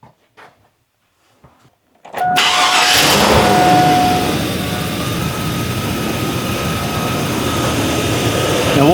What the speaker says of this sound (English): We're going to start our engine and then we're going to jump it over.